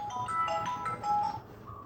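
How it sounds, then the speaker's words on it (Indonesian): A phone rings with a repeating electronic ringtone melody, fairly soft and steady for about two seconds, with little else around it. "Apa telepon?"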